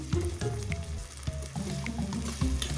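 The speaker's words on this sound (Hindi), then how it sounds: "इस मसाले को हम भूनेंगे।" Masala with grated ginger frying in a pan over fairly high flame, a dense continuous sizzle with periodic stirring scrapes, close and loud with no voices.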